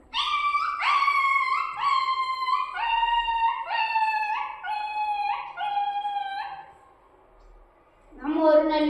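A human voice imitates a puppy struck by a stone, producing a series of close, loud, falling yelps and whines in quick succession, a short pause, then one more sharp yelp.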